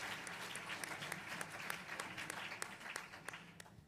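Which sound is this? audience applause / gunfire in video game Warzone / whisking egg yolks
audience applause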